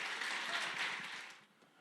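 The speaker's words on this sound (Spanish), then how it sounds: "Vamos a darle un aplauso." A church congregation applauds, a dense, fairly faint patter of clapping that holds steady, then thins and fades out near the end.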